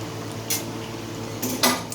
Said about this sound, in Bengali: এখন আবার তোমাদের দাদাভাই একটু নাড়িয়ে দিচ্ছে মাংসটাকে ভালো করে